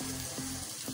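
Shredded cabbage and green onion stir-fry in a hot pan for fried rice, a brief, faint, even sizzle with soft pulses.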